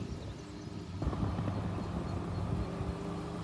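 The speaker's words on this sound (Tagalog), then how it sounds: "yung mga motor pang dumadaan" Motorcycles pass along a mountain road in Oita, Japan, a low engine rumble that swells after a moment and then holds as a steady drone.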